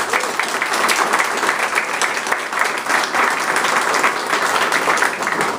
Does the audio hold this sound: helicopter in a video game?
no